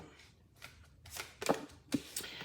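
Tarot cards flipped over and shuffled one after another in a few quick, crisp slaps and rustles, close and moderately loud, with no talking.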